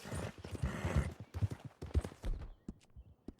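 Horse hooves clip-clop in the Red Dead video game as the Appaloosa Taima walks, a run of soft, quick, uneven thuds at moderate distance that thin out toward the end.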